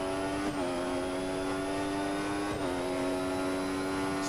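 A Sauber Formula 1 car in F1 2016 at the Bahrain circuit (Sakhir) holds a steady, high, whining engine note, briefly dipping at two gear shifts before climbing again. It is loud and continuous throughout.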